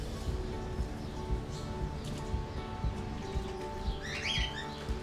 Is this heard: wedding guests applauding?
no